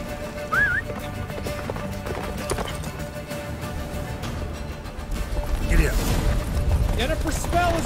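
Roach, the horse in The Witcher 3 video game, gallops through a blizzard toward a fortress. Rhythmic hoofbeats run steadily under other game sounds, with a louder surge of wind and commotion toward the end.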